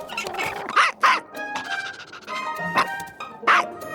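A fire wolf puppy in the Adventure Time cartoon barks and yips in short sharp bursts, several close yaps spaced unevenly with brief whimpery tones between.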